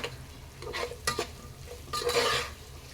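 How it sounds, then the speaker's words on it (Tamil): A spoon scrapes and stirs potatoes coated in masala in a pan over medium flame, giving a few distinct clattering strokes over a soft frying sizzle, close and fairly quiet. "உருளைக்கிழங்குல ஃபுல்லாக அந்த மசாலாலாம் பிடிக்கிற அளவுக்கு கொஞ்சம் பொறுமையாக பரட்டி விடுங்க"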